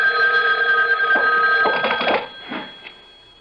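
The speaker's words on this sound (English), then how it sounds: "A phone. At this hour? I'll get it." A telephone bell rings at night in a radio mystery drama, a near, continuous electric ringing with bright sustained tones and a few clattering bursts before it fades out.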